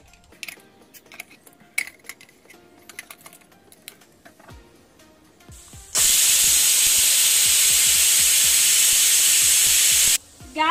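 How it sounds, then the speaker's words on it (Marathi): A pressure cooker has its whistle lifted with a cloth and vents steam in a loud, sustained hiss for about four seconds. Clicking and tapping kitchen sounds come before it, and it stops abruptly. "मी पलिताने शिटी उचलून कुकर थंड करून घेते"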